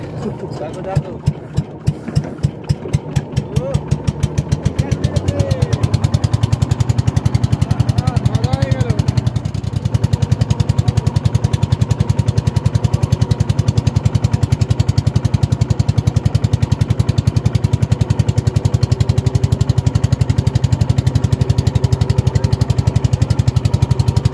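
A boat's machine engine runs under repair on a Sundarbans fishing trip, starting with sharp uneven knocks and settling into a loud, steady chugging idle close by. Voices can be heard faintly over the engine.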